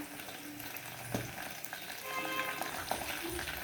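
Curry leaves and garlic are tempered in hot oil. They crackle and sizzle loudly up close, with the frying rising in intensity and scattered pops over a few seconds, and no talking.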